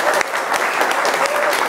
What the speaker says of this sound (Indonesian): Tepuk tangannya boleh teman-teman.